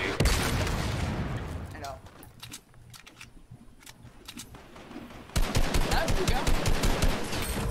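Gunfire in the battle royale game Fortnite: an opening burst fades into quieter scattered pops, then a loud rapid volley of shots erupts near the end.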